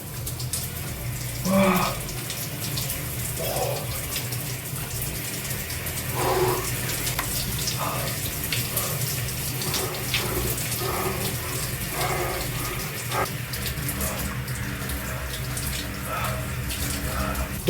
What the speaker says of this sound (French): à chaque douche, je prends une douche froide jusqu'à qu'elle chauffe